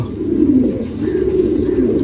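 Pigeons coo close by in a dense, continuous chorus of low throaty warbling, several birds overlapping without pause.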